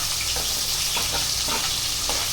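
Small onions (shallots) sauté in a pan for a chicken kuzhambu, giving a steady close hiss of frying with a few soft stirring scrapes, no voices.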